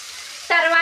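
Rice with carrots being stirred in a hot frying pot for bagara rice, a soft hiss that suddenly swells into a brighter, louder sizzle partway through.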